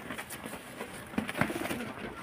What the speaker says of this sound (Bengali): যে পিছনেরটা হচ্ছে মাদি পায়রা, আর সামনের এইটা হচ্ছে নর পায়রা।